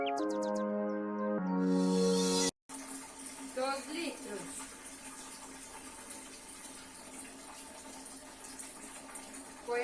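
Water running from a hose connected directly to a tap into a bucket marked in litres, a steady hiss and gush that follows a melodic electronic intro, with talk and a faint tone over it.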